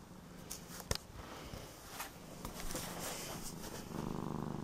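A cat lying comfortably in bed purrs steadily and close, a low rumbling drone running throughout, with a couple of faint rustling taps over it.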